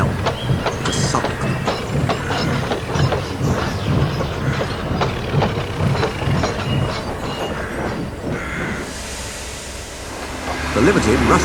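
An express train rushes past in the Trainz railway simulator game, a loud continuous rumbling roar with rhythmic wheel clatter that eases off near the end, while a voice narrates over it.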